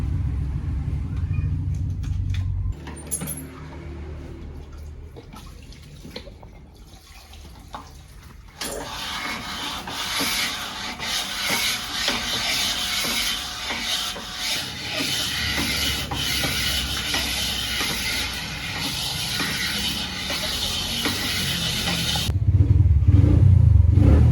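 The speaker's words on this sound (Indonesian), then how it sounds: "kita masuk proses poles blok" Polishing the cylinder block of a Kawasaki KLX bored up with a 62 mm piston, giving a steady abrasive rubbing and rasping drone that runs continuously and fairly loud, with rumbling low motor noise underneath.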